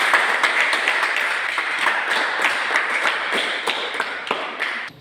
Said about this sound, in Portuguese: Então vamos dar uma salva de palmas para o novo membro.